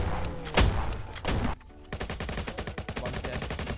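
Rapid bursts of game gunfire crack out in Roblox Jailbreak during a military-themed match, loud and close, with sharp repeated shots and a brief lull before a quick volley resumes.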